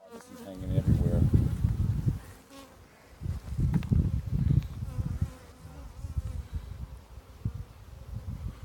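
Dense honey bee buzzing rises and falls around open hive frames during a colony split from a strong hive, a close, steady drone with swelling bursts and brief lulls, no talking.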